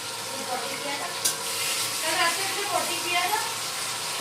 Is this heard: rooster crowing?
no